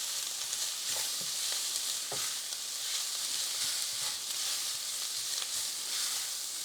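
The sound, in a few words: sausage browning in a pan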